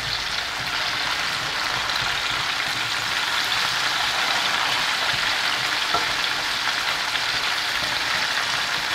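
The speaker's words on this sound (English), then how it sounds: "partially saute, partially simmer." Potatoes fry and simmer in a pan with a dense, steady sizzle that runs unbroken throughout, close and loud, with faint stirring and no talk.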